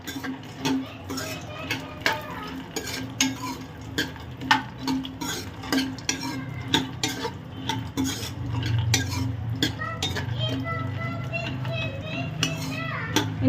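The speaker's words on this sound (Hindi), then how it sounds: "इसमें सबसे पहले हम ये काजू और बादाम इसमें डाल देंगे। और इसको भून लेंगे, हल्का सा फ्राई कर लेंगे।" Cashews and almonds roast in a pan for laddus, with a regular run of light clicks and scrapes from stirring, while faint voices carry on in the background.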